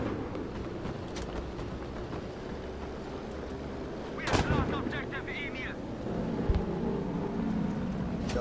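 JU-88 C aircraft guns in Battlefield 5 firing a few slow, heavy bursts over a steady engine drone, the shots spaced out with a low rate of fire.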